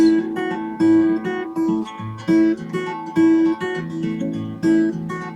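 Fast, twangy rockabilly electric guitar rhythm, with repeated bright chord stabs and a driving bouncy pulse, played solo without any voices.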